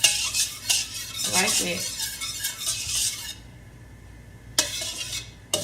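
A utensil stirs shrimp fried rice with garlic in a pan, making busy scraping and clinking for about three seconds, then near silence broken by a couple of sharp knocks; a voice speaks briefly.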